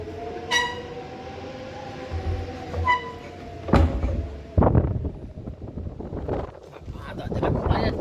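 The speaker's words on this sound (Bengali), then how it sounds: "কিন্তু হাওয়া দিয়েছে প্রচণ্ড" Strong wind gusts against glass windows, a rising and falling roar with brief whistling tones and rattling bursts, loud and close indoors.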